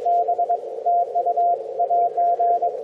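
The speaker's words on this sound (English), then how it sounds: "Wow, some very strong QSB coming through. Just faded right out there." A mobile LF radio receiver puts out a steady mid-pitched tone keyed in short on-off pulses like Morse code, loud and clean, with the signal fading under strong QSB.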